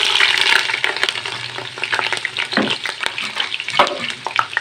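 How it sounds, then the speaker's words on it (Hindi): Onions fry in ghee for a Chinese-style mixed vegetable dish, with a loud, close, bubbling sizzle that rises and falls unevenly and carries occasional stirring scrapes throughout. "इसको हम हल्का सा फ्राई करेंगे बिल्कुल, ताकि इसका जो कच्चापन है वो ख़त्म हो जाए"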